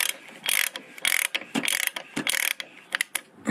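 A left-hand-thread suspension adjuster on a KTM 790 Adventure is loosened with a ratcheting tool, giving rapid close clicking bursts in an uneven rhythm with short pauses.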